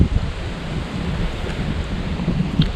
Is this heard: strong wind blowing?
yes